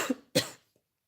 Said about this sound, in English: Sorry, just got a cough.